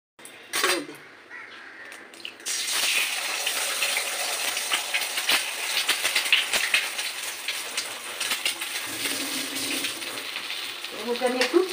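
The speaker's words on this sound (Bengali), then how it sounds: "চাউমিন বানানোর জন্য এবার আমি একটা ডিম ভেজে নেবো।" An egg fries in hot oil in a wok on a Kolkata street-food stall making chowmein, a sizzling crackle starting after an opening clatter, with scattered clinks and a voice near the end.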